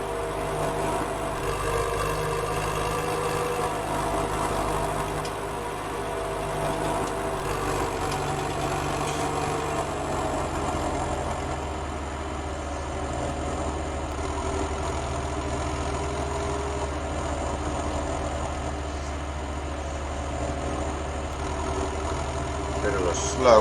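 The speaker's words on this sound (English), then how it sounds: "Bit of a slow haul when you're going up hills with this tractor" A slow-working tractor engine drones steadily as it hauls up a hill on a farm road, a constant low rumble with no breaks throughout.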